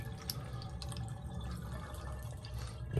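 Meltwater drains from a YETI Tundra 35 cooler tipped up in Florida sun, a steady close trickle and splash of water running out with a few drips, no talking.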